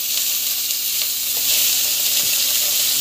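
Onion sautéing in oil in a pan, a steady close hiss of frying with occasional soft stirring scrapes, no voices.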